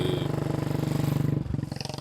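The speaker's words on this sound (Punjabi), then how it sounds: "ਆ ਦੇਖੋ ਮੋਟਰਸਾਈਕਲ ਆ ਰਿਹਾ" A motorcycle passes along a village road, its engine a close, rhythmic throbbing drone that holds steady, then dips and shifts pitch as it goes by.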